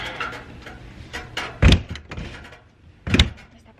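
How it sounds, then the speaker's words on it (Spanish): A camper door is shut with two solid slams about one and a half seconds apart, each a loud close thud, with quieter rattling and handling noise before and between them and no voices. "Esta puerta no se cierra a la primera."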